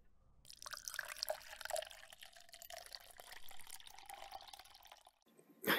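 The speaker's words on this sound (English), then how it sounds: "Let me just get a bowl of warm water and a cloth." Cloth dipped and swished in a bowl of warm water, a quiet, close series of trickles, drips and gentle sloshing lasting several seconds before a brief louder splash at the end.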